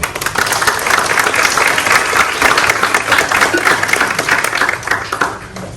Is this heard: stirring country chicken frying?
no